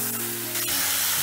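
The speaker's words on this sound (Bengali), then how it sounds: "বাটিটা ধুয়ে অল্প একটু জল দিলাম।" A little water poured into a hot pan of ground ginger and green chili spice paste bursts into a loud, close, steady hiss and sizzle that fills the whole brief moment.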